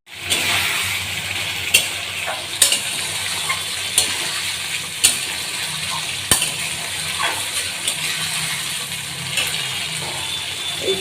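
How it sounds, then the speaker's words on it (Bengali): A continuous loud sizzle rises from frying spices in a pan as a little water goes into a shrimp curry, with occasional stirring clicks and knocks. "এবার দিয়ে দেবো অল্প করে জল"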